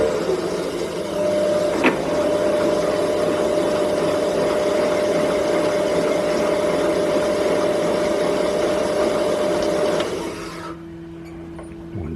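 A homemade lathe runs while cutting a thread, a steady motor hum with a whining tone, one sharp tick early on, then the machine winds down and stops near the end, leaving a quieter residual hum.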